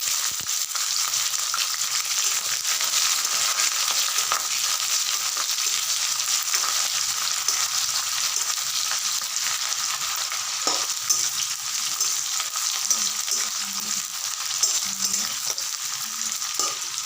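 Chopped onions frying in hot oil with nigella seeds and two dried red chillies, a continuous close sizzle with occasional scrapes and stirring clinks, no talking.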